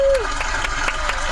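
Applause and cheering from a New York comedy-show audience, a dense, continuous clapping crowd with a short sung or held voice note at the start and talk mixed in.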